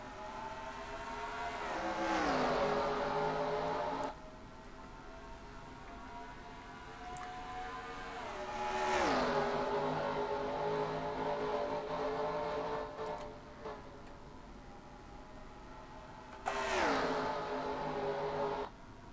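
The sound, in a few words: race cars driving on track in a racing video game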